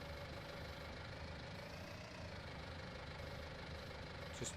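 Tractor engine idling in Farming Simulator 19 on an Irish farm, a steady low rumble with a faint knocking texture that holds at an even level throughout, with no talk.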